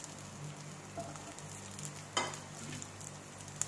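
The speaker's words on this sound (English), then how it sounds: "So now I am just putting in the broccoli, few florets, few cherry tomatoes." Broccoli florets and cherry tomatoes hit a hot oiled pan, raising a faint, steady sizzle with one brief louder crackle partway through.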